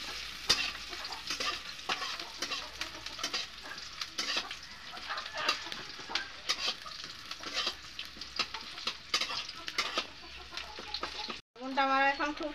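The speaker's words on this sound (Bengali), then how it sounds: "শুকান পেঁয়াজ একটু লাল লাল করে আমি ভাজে নিব" Chopped onion and green chilli fry in hot oil for a fish curry, a steady crackling sizzle broken by frequent scraping stirs, close up; near the end the frying cuts off and a chicken's cluck takes over.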